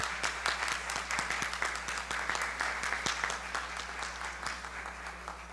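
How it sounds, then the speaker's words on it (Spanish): An audience applauding a school of education choir at a public ceremony, many hands clapping in a dense, steady patter with some crisp individual claps, sustained at moderate loudness over a low constant hum. "aplauso"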